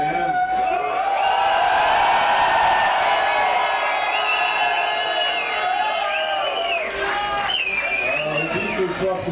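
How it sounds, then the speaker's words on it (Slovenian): Fans greet ice hockey player Anže Kopitar at Ljubljana's Brnik airport with a loud, sustained crowd roar of cheering, whoops and shouts, a voice talking over the noise throughout. "množica predstavbo ljubljanskega letališča postajala vse glasnejša in glasnejša"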